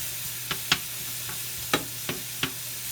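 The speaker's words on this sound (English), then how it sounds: "I've got my chicken and my mushrooms working, and then down here on the other side, I've got my shallots. They're beginning to work." Shallots, chicken and mushrooms sauté in a pan with a soft, steady sizzle, broken by a few sharp clicks and scrapes of stirring close by.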